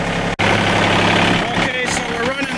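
A truck engine idles steadily close by, its exhaust routed through a rubber tube, giving a continuous low rumble with a brief dropout near the start and someone talking over it.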